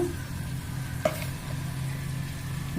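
Cumin paste hits potatoes frying in oil for a potato and egg curry, giving a steady close sizzle with one brief clatter partway through.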